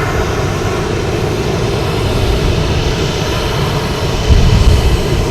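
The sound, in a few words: American Airlines Airbus A319 arriving from Chicago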